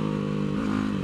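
TIANDA TDR300 motorcycle running hard around Mission Raceway, its engine a steady, loud, close drone with a buzzing harmonic whine and no pauses.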